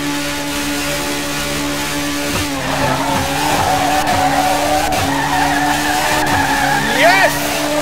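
All-motor Honda DC5 and Civic EK9 drag cars at a no-limit drag race: engines drone steadily, then tires squeal and skid with rising engine pitch, loud and close, with voices mixed in.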